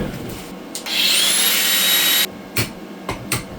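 A power tool cuts a metal part for a homemade bike jig: a loud, steady high-pitched whine of about a second and a half, alone, followed by a few short scraping bursts.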